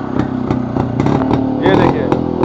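A vintage two-stroke single-cylinder motorcycle with twin silencers revs close by, a rapid crackling putter with rises in pitch. Someone talks over the engine.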